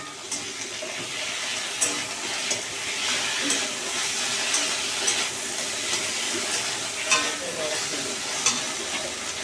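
Tomato frying with vegetables, turmeric and salt in a pan for a potato and stem fish curry, a soft steady sizzle with occasional light clinks and stirring scrapes close by.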